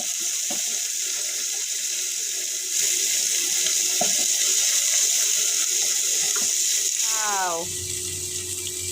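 A kitchen tap runs steadily into a sink as cut bottle gourd is washed, close and continuous with clatters of handling, then the flow cuts off near the end with a falling squeak.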